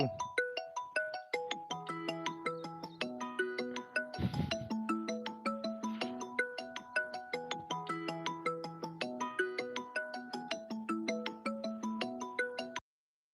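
A mobile phone ringtone plays during an outdoor live stream on an organic farm, a repeating melodic chime pattern that is clear and continuous for about thirteen seconds before it stops.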